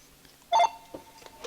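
A mobile phone with a dying battery gives a short electronic beep sequence, clear and close, followed by faint tones and small background knocks.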